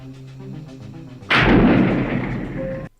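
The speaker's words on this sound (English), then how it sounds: "Why are you shooting from like such a long distance?" A heavy gunshot or artillery-style blast erupts suddenly after quiet, low-level film sound, then a loud sustained roar and rumble carries on for over a second before cutting off. The scene is from the 1981 film Escape from New York.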